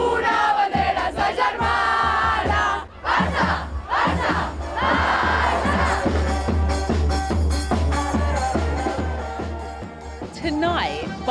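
Huge stadium crowd of more than 80,000 at the Nou Camp for a Barcelona women's football match, a loud sustained roar and chanting filling the air throughout, with a brief dip midway and swelling again, over background music.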